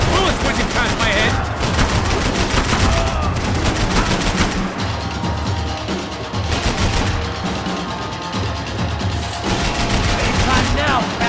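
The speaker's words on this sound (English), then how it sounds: "I can't concentrate with bullets whizzing past my head!" Sustained automatic gunfire rattles without a break through a Max Payne 3 firefight, with dense overlapping bursts and shots. Voices come and go beneath the shooting.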